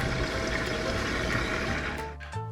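Water rushes steadily into a washing machine as it fills, a continuous broadband hiss with no speech, easing off near the end.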